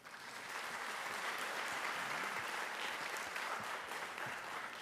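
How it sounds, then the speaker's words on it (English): Audience applauding at a school district Teacher of the Year ceremony as a presenter comes to the stage, steady broad clapping from a large crowd, heard from a distance and easing off near the end. "Big round of applause."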